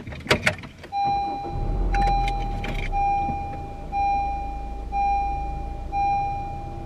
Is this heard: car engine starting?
yes